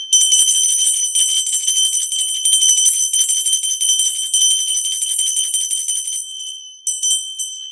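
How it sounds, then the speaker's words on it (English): Bells ring in a bright, continuous shimmer used to clear energy during a live reading, loud and close, sustaining for several seconds before thinning out into a few last tinkling strikes. "I use the bells to clear energy"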